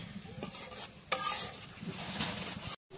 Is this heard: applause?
no